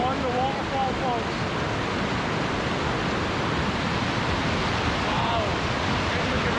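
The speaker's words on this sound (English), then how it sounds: "The waterfall" Steady roar of rushing, falling water from a waterfall in Scotland fills the whole stretch, broad and constant like a waterfall up close, with wind buffeting faintly underneath.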